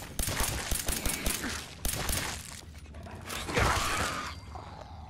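Rapid bursts of gunfire from a Fallout video game, dense volleys in the first two seconds with a heavier blast near the end, loud and close over mechanical clatter.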